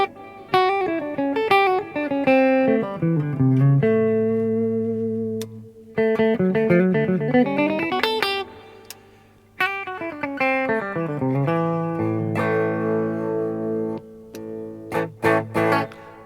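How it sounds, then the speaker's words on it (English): An electric guitar plays through a John Birch Magnum 4 neck pickup with the solo switch on, giving a dark, full tone. The phrases are loud and sustained, with clear note changes and a few short pauses. "this is the neck pickup with the solo switch on"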